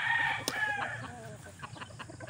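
Chickens cluck and a rooster crows from somewhere below, a fairly close, loud crow at the start followed by softer clucking that continues throughout the short stretch.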